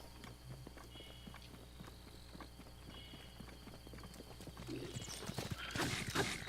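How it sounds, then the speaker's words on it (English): A goat moving in the video game Breath of the Wild: a quick run of soft hoof-like clip-clop steps, with a louder burst of movement and bright noise near the end. "This goat must be working for Ganon!"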